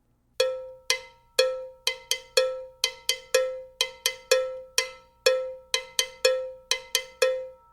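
A cowbell rings out in close, clear strokes, alternating open ringing hits with muted, higher-pitched clicks struck toward the back of the bell, in a steady Latin rhythm with no voices.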